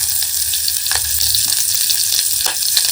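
Onion and curry leaves sizzle in hot oil with mustard seeds, a steady dense frying crackle throughout with a few brief stirring clinks, close and fairly loud, no talk.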